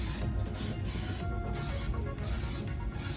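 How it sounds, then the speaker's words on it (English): Cooking oil spray hisses into muffin pan cups in a series of short bursts, about five sprays with brief pauses between, close and fairly loud. "just get your spray and spray in each one of them"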